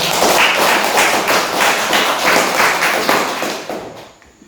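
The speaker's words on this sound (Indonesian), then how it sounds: "Oke, tepuk tangan." Applause from an audience after a classroom group presentation: dense, even clapping from many hands, fairly loud and close, that carries on steadily before thinning out at the end.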